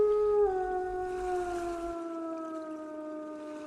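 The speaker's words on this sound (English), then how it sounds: "Dog. Or a werewolf." A long, wavering howl of a dog or werewolf used as a theatre sound effect, one sustained cry that slowly slides downward in pitch and fades out over a few seconds.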